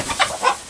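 Two quick, soft clucks from a chicken, close and brief, over a quiet background.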